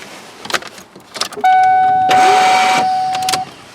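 A car starter fails to engage a worn ring gear, giving a loud sustained whirring whine for about a second and a half after faint clicks, near and without talk.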